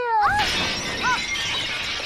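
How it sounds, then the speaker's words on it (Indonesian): Glass shatters loudly at the start of a film scene where a car nearly runs someone down, followed by short squealing, screech-like sounds and a lingering noisy tail. "Namun tiba-tiba mobil ngegelondong ke arahnya dan hampir menabraknya."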